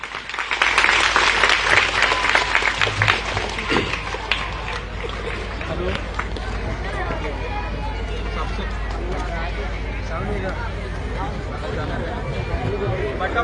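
A crowd applauds at a political rally in Bhadohi, a dense, loud burst of clapping that swells at first and then settles into a sustained patter, with crowd murmur beneath.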